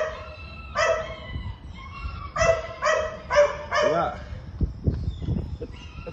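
Dogs bark outdoors in the early morning after heavy overnight rain, several short sharp barks in a burst mid-clip, then fainter yips and whimpers, with someone talking in the background.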